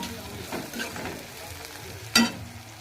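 Onions frying in a pan with turmeric and salt are stirred, a soft sizzle under scraping strokes and one sharp clatter of the spoon near the end, with no talking.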